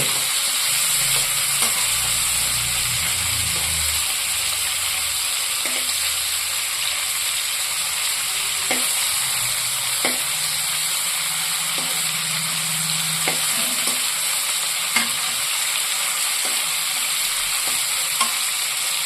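Shrimp sizzling in hot oil after being flipped, a steady close frying hiss broken by occasional light taps and scrapes of a utensil in the pan, with no talking.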